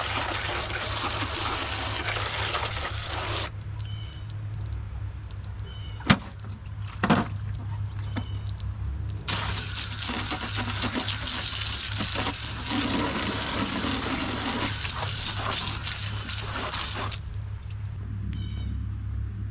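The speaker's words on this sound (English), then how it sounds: "You always want to rinse it with just cold, fresh water" A hose sprays cold fresh water over a pool vacuum, rinsing off chlorine outdoors. The hiss comes in two long bursts separated by a quieter pause, with a few short knocks and possible animal cries in the gaps.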